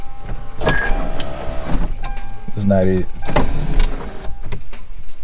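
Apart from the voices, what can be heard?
car sunroof motor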